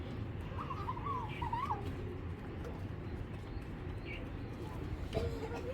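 Pigeons kept by a breeder cooing in short, soft, low warbling calls, a couple of distinct phrases rising out of steady background noise.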